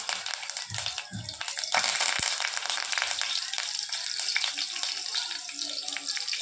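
Curry leaves hit hot oil in a pan and erupt into a loud, steady hissing sizzle that persists, with someone speaking over the frying.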